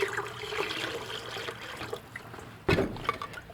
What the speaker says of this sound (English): Let's add a little water.